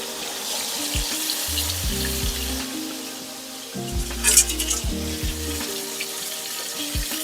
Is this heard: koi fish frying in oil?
yes